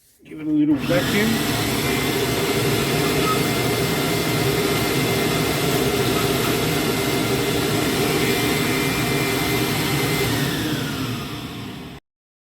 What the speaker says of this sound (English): give it a little vacuum